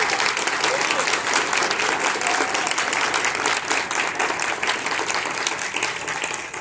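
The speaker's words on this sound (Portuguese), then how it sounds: "então uma salva de palmas para ela" An audience applauds at a film festival screening, welcoming Helena Ignez as she presents her film: dense, continuous clapping fills the room at full strength, with faint voices underneath.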